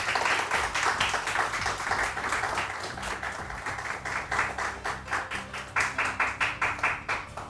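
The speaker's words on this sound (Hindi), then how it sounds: "तो कनान के लिए बहुत सारी तालियां।" A studio audience on a morning TV show claps, dense applause that turns into rhythmic unison clapping toward the end.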